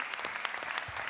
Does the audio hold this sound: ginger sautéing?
no